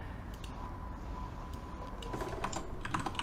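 Typing a short texture file name on a computer keyboard, steady rapid key clicks under a constant low background hum, the keystrokes growing denser and slightly louder toward the end.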